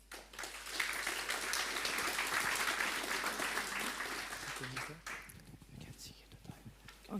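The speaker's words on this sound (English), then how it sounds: "Please, a big applause." An audience at a space debris recycling presentation claps, a full burst of applause that swells and then tapers off, with quieter shuffling and murmurs as it dies down.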